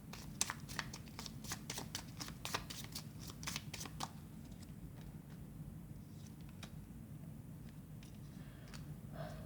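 Tarot cards shuffled and drawn by hand: a quick run of crisp, closely spaced riffling clicks, then softer, sparser card sounds, quiet and close with no talking.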